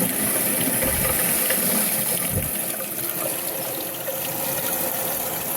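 Water rushes steadily into the tank of a Glacier Bay dual flush toilet after the supply is turned back on, a continuous close hiss and gurgle that holds at an even level throughout.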